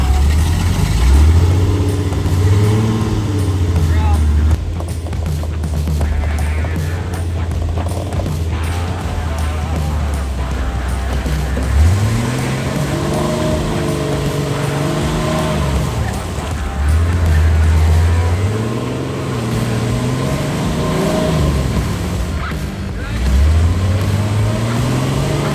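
An off-road vehicle stuck on its differential at Leatherwood revs repeatedly in loud bursts that rise and fall, with tires spinning and scrabbling between pulls over a steady outdoor background.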